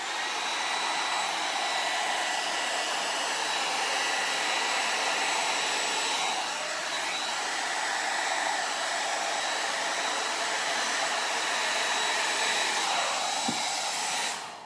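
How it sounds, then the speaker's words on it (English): A hair dryer blows steadily on acrylic paint for a Dutch pour, a continuous loud whooshing hum with a faint high whine, running uninterrupted with only slight shifts in airflow and no talking. "All right, got the hair dryer."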